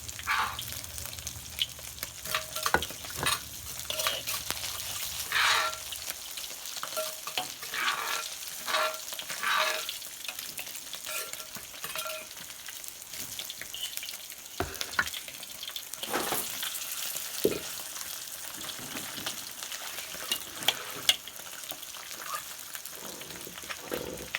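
Sun-dried fish crackles and sizzles steadily in hot oil, a dense close-up hiss with scattered pops and occasional stirring scrapes throughout, no voices.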